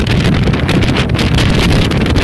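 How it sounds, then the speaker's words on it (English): Strong wind gusts buffet the microphone on a snowy mountain summit, a loud, continuous roaring rush with no break across the short stretch. "If I stand up, you'll notice the wind pick up"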